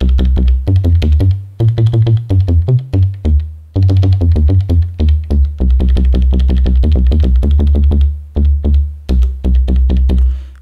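Short, fat synth bass notes from the Elektron Digitone "bass fatty short" preset pulse in a steady, loud sequence with a few brief pauses, played alone without talk.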